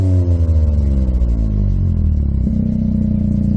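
A 2023 Toyota GR Corolla engine revving through an MBRP catback exhaust, a deep loud close rumble swelling as revs climb, steady and alone in cold weather.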